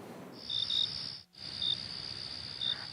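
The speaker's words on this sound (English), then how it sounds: "crickets chirp outside." Crickets chirp outdoors at dusk in a steady high trill with short pulsing bursts, faint and continuous, with no voices.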